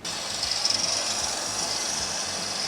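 A power tool grinds along the edge of a lawn mower blade to sharpen it, a steady close abrasive rasping whir with slight fluctuations over a few seconds, no talking.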